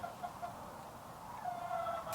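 Faint clucks from young chicks and an older flock drift in and out over a steady outdoor background hiss, distant and low in level.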